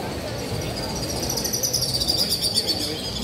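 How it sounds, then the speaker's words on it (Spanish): Sparrows chirping outdoors in Dubrovnik, a steady busy chatter of high tweets that swells toward the end, under street ambience with people talking nearby. "Son los gorriones."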